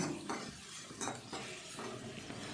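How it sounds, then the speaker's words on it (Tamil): Chopped onion frying lightly in oil in a kadai, with a steady soft sizzle and spoon stirring scrapes against the pan, close and continuous with no talking. "ஒரு கடாயில் ஆயில் ஊற்றிருக்கிறேன் சின்ன சின்னதாக கட் பண்ணி வச்ச ஒரு ஆனியனை உள்ளே போட்டாச்சு அப்படியே லைட்டாக அதை ஃப்ரை பண்ணிக்குவோம்"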